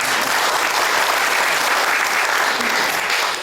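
Loud, dense applause from a congregation welcoming guests at a church prayer breakfast, a steady wash of many hands clapping at once, sustained evenly throughout with no voices rising above it.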